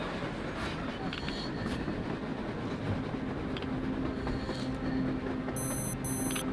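A train rolls across the surface in the video game Metro Exodus, a steady loud rumbling clatter of wheels and cars with squealing metallic tones, continuous throughout.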